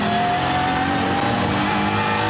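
Race car at full revs during qualifying at the Nürburgring 24h, engine roaring hard and continuous as it runs flat out downhill, loud and close with no talk.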